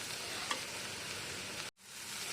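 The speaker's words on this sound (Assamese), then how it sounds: "এতিয়া মই জুইটো বঢ়াই দিম আৰু পানীখিনি শুকাই নোযোৱালৈকে এইখিনি ভাজিম" Chopped banana blossom sizzles steadily in a pan, a soft, even hiss of frying that runs on alone, then cuts off for a split second before resuming a little quieter.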